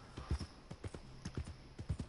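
Horse hooves clip-clopping in Red Dead Redemption 2 on PS4, a steady rhythmic series of close, distinct hoof strikes at a walking or trotting pace.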